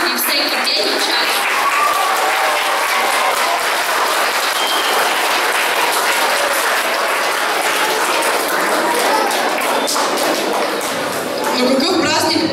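Audience applauding at a primary school's anniversary celebration in Pleven, a steady, dense clapping that fills the room and stays loud and sustained throughout, with no talk over it.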